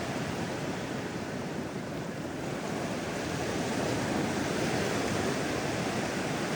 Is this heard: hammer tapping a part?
no